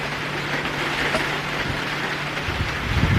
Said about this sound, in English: You guys hear the rain?